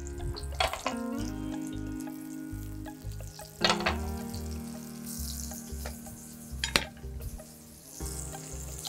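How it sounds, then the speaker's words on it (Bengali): Chicken shallow-fries in ghee over low heat, a soft continuous sizzle running beneath sharp clattering knocks and clinks from cookware that come in several bursts. "আমি সেলো ফ্রাই করব।"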